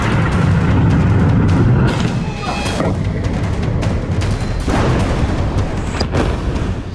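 Heavy booming blasts and rumbling crashes as an airstrike explosion brings down a concrete building in Beirut, with several sharp impacts rising out of a loud, sustained roar of falling debris.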